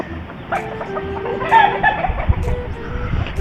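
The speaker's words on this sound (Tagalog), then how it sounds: "Ito yung mga broodcock na ginamit ng ating Lodi sa kanyang mga pasisiw na palahi ngayon" A high caliber gray bloodline gamecock rooster on a farm clucking in short close calls over outdoor background noise, with other fowl sounds around it and no one speaking.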